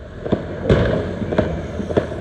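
Several sharp fireworks bursts pop at irregular intervals on New Year's Eve streets in the Netherlands, about four cracks over a couple of seconds, moderately distant with brief echoing tails.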